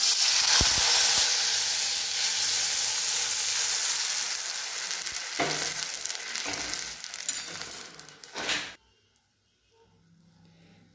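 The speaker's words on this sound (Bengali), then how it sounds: "এই সময় গ্যাসটা কমিয়ে এর মধ্যে অল্প পরিমাণে জল দিয়ে দেবো।" Water goes into a hot pan of fried spice tempering for a raw mango chutney, setting off a loud, steady hiss and sizzle that fades, then breaks off into near silence.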